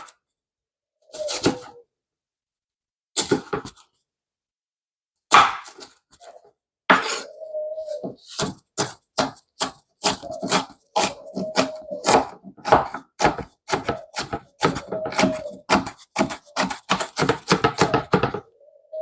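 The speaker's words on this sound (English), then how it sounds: "For me, cutting an onion, I like to go right in the middle." A knife chops an onion on a cutting board, starting with a few separate cuts and then a fast, steady run of close, crisp knocks.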